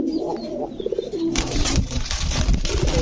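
White gola pigeons cooing close by, a few soft rolling coos in the first second before louder rustling and shuffling noise from the birds and their pen takes over.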